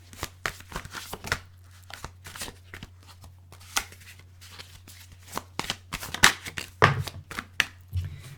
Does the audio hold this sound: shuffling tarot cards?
yes